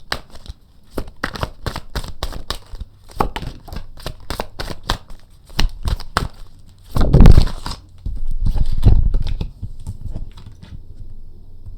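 Tarot cards being shuffled for a reading: rapid, dense flutters and taps, close up, with a few louder riffling bursts toward the end, and no voices.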